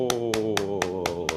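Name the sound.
hand clapping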